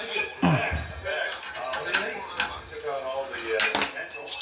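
Bolts being tightened on the gas tank cap of a 2017–2021 Kawasaki Ninja 650, with close metallic clinks, ratcheting and tool clatter coming in short bursts.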